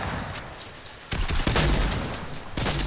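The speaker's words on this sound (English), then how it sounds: "someone's shooting you. Someone's shooting you." Video game gunfire rattles in loud bursts, a quieter volley early on, then heavier sustained shooting from about one second and again near the end, with no talk over it.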